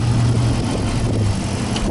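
A 2007 Dodge Charger SRT8 with a 6.1 liter engine and a K&N cold air intake runs steadily at a low, rumbling idle, close and fairly loud, with no talking.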